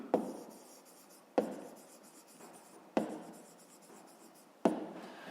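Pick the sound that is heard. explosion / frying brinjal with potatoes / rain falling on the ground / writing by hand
writing by hand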